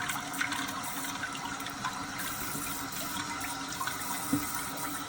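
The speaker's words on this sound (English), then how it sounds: "Water comes back in." Water rushes steadily into a toilet tank after a flush as it refills, a constant close hiss and gurgle with no talk.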